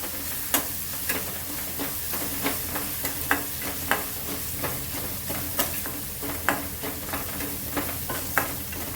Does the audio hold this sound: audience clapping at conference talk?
no